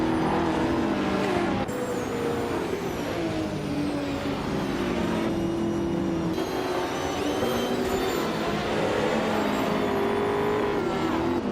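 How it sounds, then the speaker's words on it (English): Race cars roar through a video game race, engines droning and revving continuously with rising and falling pitch as gears shift, loud and steady with no pauses. "Right at the start, Dishonored Fox is leading the pack."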